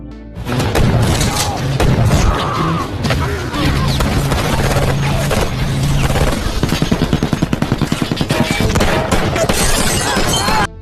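A loud action-film shootout fills the scene with heavy booms, shattering glass and gunfire, building into a dense rapid burst of shots toward the end.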